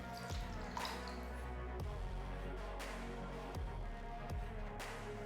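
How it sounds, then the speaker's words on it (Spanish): Water is stirred into paint for textured gotelé roller painting, giving soft wet sloshes and faint scraping knocks at irregular intervals, quiet and close over a low steady hum. "Lo añadimos a la pintura y removemos"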